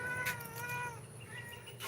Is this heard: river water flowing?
no